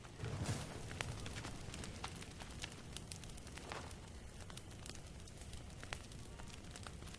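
Fire burning in the survival video game The Forest, a steady, faint crackle with scattered sharp pops and snaps over a low rumbling bed, continuing throughout with no talk.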